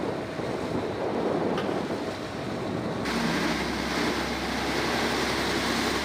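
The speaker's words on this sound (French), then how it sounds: "L'équipage subit la colère des vagues." Rough sea at force 4 pounds a vessel during a naval patrol exercise: a continuous, loud roar of surf and wind noise buffeting the microphone, growing heavier partway through, with a low rumble beneath.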